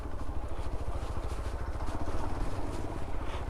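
A motorcycle engine idles at low, steady rumble with a faint clatter, fairly quiet and continuous throughout, with no talk heard over it.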